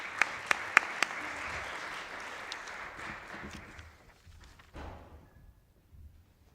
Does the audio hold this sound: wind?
no